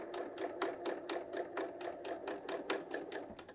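A BERNINA L 890 sewing machine runs steadily, stitching the shoulder seam of a woven top, its rapid needle beat repeating evenly and close by with no pause and no voices.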